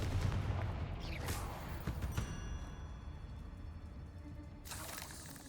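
Confringo blasting spell explosions in Hogwarts Legacy come as a dense roar of booming blasts and crackling impacts. A couple of sharper bursts rise out of the continuous rumble, loud and close, with no one speaking.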